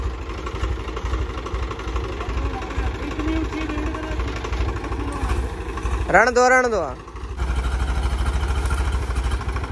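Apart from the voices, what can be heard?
tractor engine running while stuck in a field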